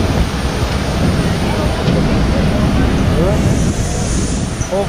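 Steady, loud jet airliner engine roar from a big plane parked away from the gate while passengers board outdoors in Costa Rica, a continuous broad rumble with voices talking over it.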